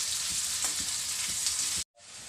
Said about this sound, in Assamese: এতিয়া মই এইটো গল্ডেন ব্ৰাউন হোৱালৈকে ভাজিম।